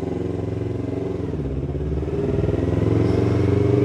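A Yamaha YZF-R25 motorcycle idles and runs close by, its engine a steady low thrumming rumble that grows slightly louder and rougher toward the end.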